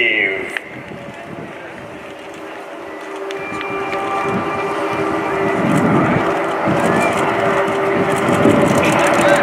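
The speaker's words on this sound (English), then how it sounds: "Is opening its presentation with a 60 degrees looping, including 9 aircraft in the formation called Flying Diamond" Nine Swiss Air Force PC-7 turboprop trainers flying a diamond formation at an airshow produce a broad engine drone that swells steadily louder and nearer, with a faint voice in the background.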